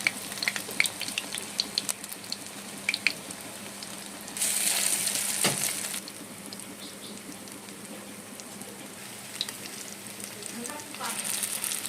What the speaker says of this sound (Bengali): বড়া ভাজা হয়ে গেছে এখন এগুলো নামিয়ে নিলাম